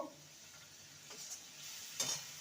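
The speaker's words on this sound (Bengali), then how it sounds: "নেড়ে নেব" Potato samosa filling seasoned with crushed kasuri methi and cumin powder is stirred in a pan, a quiet brief scrape and low sizzle with a small metallic clink near the end.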